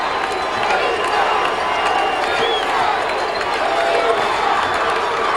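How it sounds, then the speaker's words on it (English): A stadium crowd of McKeesport fans roars and cheers at a 1994 WPIAL championship football game, a continuous loud wall of yelling with scattered whoops and clapping, and a commentator's voice faintly underneath. "I've heard that cheer here in this stadium a few times before"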